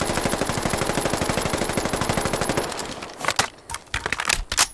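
A QBZ-191 assault rifle from a Fallout 4 mod fires fully automatic in a fast, even stream of sharp shots for a few seconds, then stops, followed by scattered mechanical clicks and clacks.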